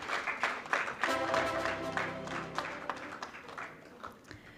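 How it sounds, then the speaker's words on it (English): Audience applause at the Plan India Impact Award 2025 ceremony, a burst of clapping that swells, then tapers into scattered claps, with a voice faintly audible through it. "I think we can have a louder applause, and the applause should keep on going"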